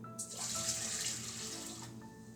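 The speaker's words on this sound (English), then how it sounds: "first pour in your 2 cups of warm water into your mixing bowl" Two cups of warm water pour steadily into a stand mixer bowl for bread dough, a loud, continuous gushing splash lasting about two seconds before tapering off, with no speech.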